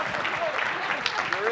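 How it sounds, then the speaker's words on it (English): A conference audience claps for the speakers, a brisk wave of applause with a few louder individual claps and a voice briefly heard over it. "a round of applause for our speakers"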